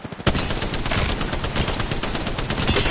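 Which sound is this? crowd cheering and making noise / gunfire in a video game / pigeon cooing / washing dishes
gunfire in a video game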